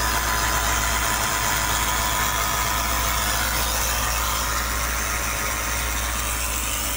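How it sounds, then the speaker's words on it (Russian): An AVS Turbo KS 200P car air compressor, powered from a cigarette lighter socket and inflating a tyre, runs with a loud, steady, buzzing mechanical drone that continues unbroken from start to finish. "пойдем проверять компрессор в деле"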